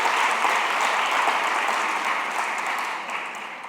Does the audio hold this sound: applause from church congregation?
yes